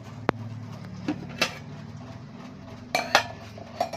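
Rice is served at lunch, with a few sparse clinks and knocks of dishes and cutlery close by over a quiet room background.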